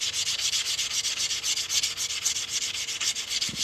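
Sandpaper rubs the cut edge of a silver coin ring in quick, steady back-and-forth strokes, a close, even rasping with no voices.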